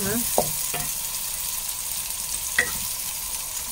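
White onion and garlic sauté in a pan with a steady, close sizzle and a few clinking stirs of a utensil against the metal.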